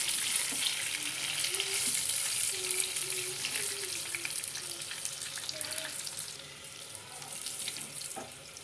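Fish frying in hot oil gives a steady, close sizzling hiss that runs the whole time, with faint kitchen clinks and a few soft tonal tones underneath.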